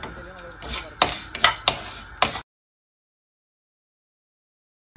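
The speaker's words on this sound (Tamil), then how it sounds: "இப்போ நாங்கள் பெருஞ்சீரத்தையும் மஞ்சளையும் சேர்த்து வறுக்கிறோம்." Fennel and turmeric dry-roasted in a pan for Jaffna curry powder, with a handful of sharp scrapes and taps from stirring over a faint hiss, close by, ending abruptly in silence halfway through.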